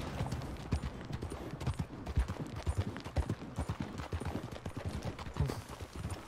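Horse hooves clip-clop steadily on cobblestone roads in a Wild West video game, a quiet, irregular trotting rhythm of sharp knocks that continues throughout.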